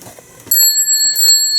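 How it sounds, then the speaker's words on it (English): A Dover elevator indicator bell in an elevator museum rings with a bright, sustained metallic tone that starts abruptly and holds steady, loud and close, with no talk over it. "You see there's what it looks like in the light, but it has this really neat sounding bell."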